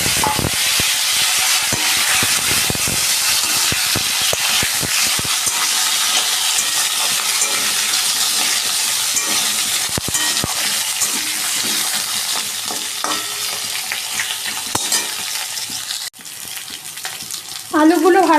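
Potatoes frying in hot oil tempered with dry red chilli, cumin and bay leaf: a loud, dense, continuous sizzle close up, steady throughout and dropping off briefly near the end.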